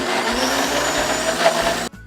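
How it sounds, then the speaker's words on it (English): A blender whirs steadily as it purees sliced bananas with lemon juice for homemade banana pudding, a continuous loud motor drone with slight pulsing that cuts off abruptly near the end. "Pour the lemon juice over the bananas and blend."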